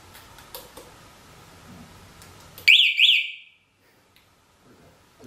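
A cheap aftermarket alarm on a TaoTao 50cc ATM50 scooter blares a loud, near burst of rising electronic chirps for under a second, after a stretch of low background noise, then cuts off into near silence.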